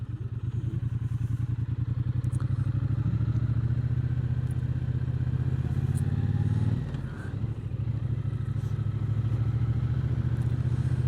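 A motorbike is ridden fast along a road. Its loud, close engine drones steadily with a rough rumble, dips briefly partway through, then resumes its even pull.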